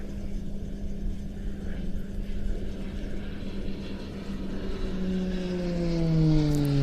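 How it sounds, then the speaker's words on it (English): An aerobatic plane dives inverted during airshow practice at Leszno, its engine a steady distant drone that grows louder and rises in pitch toward the end as it comes closer. "seeing an aircraft diving down in the inverted like that"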